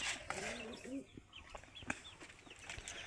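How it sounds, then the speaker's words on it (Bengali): A hen on a small farm clucks noisily before laying eggs, a run of short nasal calls and squawks close by amid light background rustle and faint other birds. "আর এই মুরগিতে ডিম পারবে দেখে চিল্লেওয়ালা করতে আসছে।"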